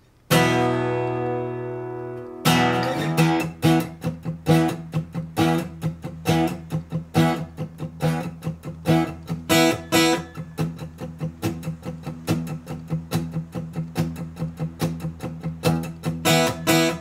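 Electric guitar slowly plays the verse of a song, starting with a sustained chord and then moving into steady, evenly picked chords that ring out close and clear, with no talking.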